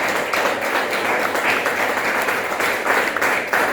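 Congregation applause at a church service, a dense, steady wash of many hands clapping together, loud and close, sustained throughout without speech.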